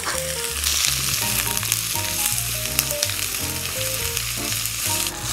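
Onions frying in oil in a pan hiss and sizzle continuously and steadily, close by, with tonal background music playing underneath.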